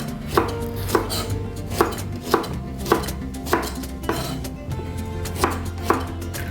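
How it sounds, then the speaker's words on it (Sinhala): A knife chops washed okra into small pieces on a cutting board, a near, regular series of sharp knocks about every half second over soft background music. "මුලින්ම බණ්ඩොක්ක ටික සෝදලා අරගෙන මෙන්න මේ වගේ පොඩියට කපා ගන්න ඕනේ"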